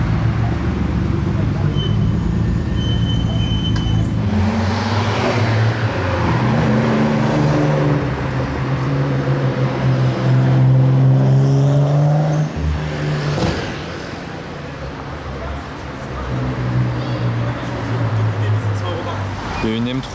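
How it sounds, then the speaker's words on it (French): A BMW M3 driving past on a busy Paris street, engine note rising and sweeping by amid traffic noise, with someone talking over it much of the time. "Il y a une M3 qui fait son petit passage."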